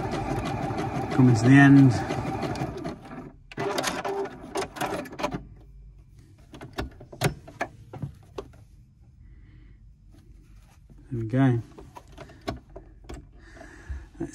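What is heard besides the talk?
Juki HZL G220 sewing machine stitching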